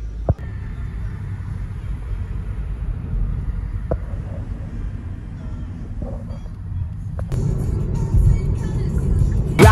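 Inside a moving car there is a low, steady road rumble with a few scattered thumps and clicks. The noise grows louder and busier toward the end.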